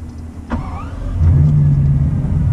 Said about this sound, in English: And then this is just your on-off button for the engine. So this is startup.